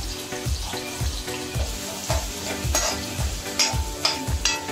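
Chopped onion and curry leaves frying in hot oil while being mixed, with a steady sizzle and regular rhythmic scraping strokes of the spatula, close and without speech.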